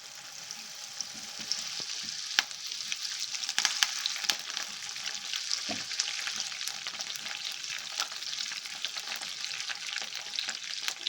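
Crispy corn fries in hot oil, a steady close sizzle and crackle that runs continuously with small bursts of bubbling, with no talking.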